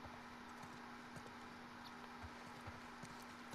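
In the video game The Last of Us Part II, steady, rhythmic hoofbeats clip-clop over a constant low hum, like a horse walking at an even pace, with no talking.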